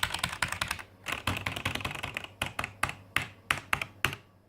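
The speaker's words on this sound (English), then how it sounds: "It's just a better made, much more sturdy and better quality keyboard. The keys, sound test now." A Logitech G Pro computer keyboard is typed on up close, with bursts of rapid crisp key clicks followed by slower single springy presses.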